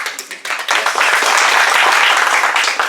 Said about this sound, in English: I'd like to give a little round of applause for all the women sitting in this room.